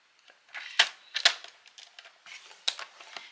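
Scrapbooking paper for a photo frame box is being creased into folds, giving a few quick crisp crinkles and taps at close range.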